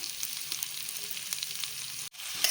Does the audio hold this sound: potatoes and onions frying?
yes